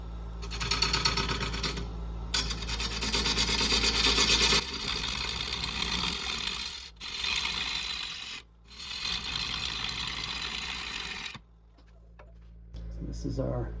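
A lathe tool cuts a walnut bowl through a knot, a loud close rasping, scraping buzz in long bursts with brief pauses and a ticking rhythm from the spinning wood, dropping to quieter hum at the end, with talk over it.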